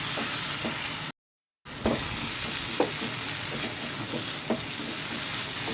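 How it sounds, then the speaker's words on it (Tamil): Prawn gravy masala sizzles steadily in oil while being stirred, with periodic soft scraping strokes and a brief dropout of silence early on. "இப்போ லைட்டாக கலரி கொடுத்துக்கலாங்க"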